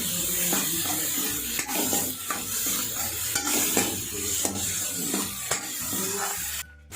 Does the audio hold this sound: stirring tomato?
yes